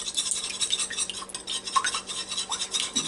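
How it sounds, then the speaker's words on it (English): A whisk stirs egg and whole milk together in a bowl, giving a steady, rapid scraping and clicking rhythm that runs close and fairly loud throughout, with no talking. "take my trusty whisk again"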